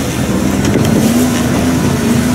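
A Scarab jet boat powered by a BRP Sea-Doo engine runs at the Miami Boat Show, a loud, steady jet-engine roar with constant rushing water and wind noise throughout, no talking.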